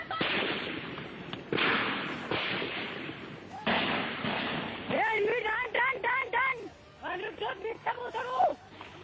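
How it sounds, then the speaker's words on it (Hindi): A barrage of gunfire in a forest during a Naxal attack in Chhattisgarh, with sharp repeated bursts and loud cracks, followed by someone speaking urgently over further shots. "एकाएक गोलियों की बौछार।"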